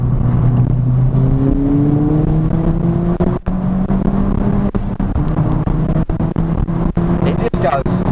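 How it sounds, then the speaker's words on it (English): A Ford Fiesta ST with a VT330R turbo pulls hard from inside the cabin, its engine note rising steadily as it accelerates, loud and close, with a voice talking over it. "It sounds more meaty, more of aggressive turbo spool noise and everything like that."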